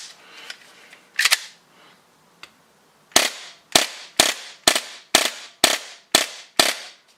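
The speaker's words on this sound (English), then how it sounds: "Now I'll dry fire for you guys." A rifle fitted with a full-auto blowback unit is dry fired: a couple of sharp snaps, then a rapid, evenly spaced series of about eight loud close mechanical clacks with quiet gaps between.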